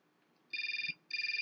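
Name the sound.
telephone ringing in a video game (Syberia)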